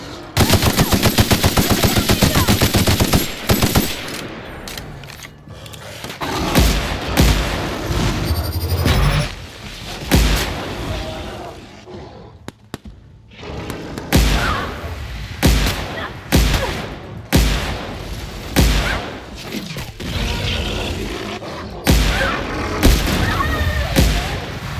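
Gunfire in The Outer Worlds as the player shoots a hostile primal creature: loud rapid bursts and single shots repeat in clusters with short gaps between, and a voice talks at times between volleys.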